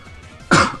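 A single short, sharp cough bursts out from someone with flu, close and loud against a quiet background hum.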